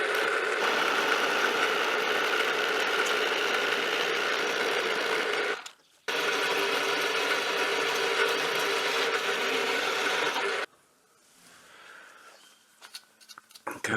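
A wood lathe turning a bowl blank with a long overhang while taking super light cuts gives a steady, loud mechanical whir with a brief break near six seconds, then it stops and the room falls quiet.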